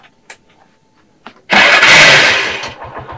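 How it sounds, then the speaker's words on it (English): An engine starts abruptly after a few faint clicks and taps, then runs loud and close, a rough steady roar that slowly eases off, with no talk. "Come and listen to this engine."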